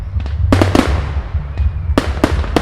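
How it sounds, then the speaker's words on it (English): Fireworks at a Chinese New Year celebration bursting with loud, sharp cracks and bangs, several in quick succession over a continuous low rumble. "while the fireworks light up the sky"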